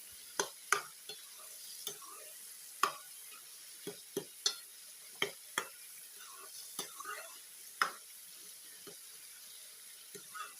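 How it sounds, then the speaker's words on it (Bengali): Bottle gourd with poppy seed paste (lau posto) simmering in a pan, with a soft bubbling hiss under repeated sharp clicks and scrapes of a spoon against the pan, spaced irregularly and fairly quiet. "লাউ পোস্ত আমার হয়ে গেছে এবার একটু পোস্তটা ফুটলে আমি পোস্তটা নামিয়ে দেবো"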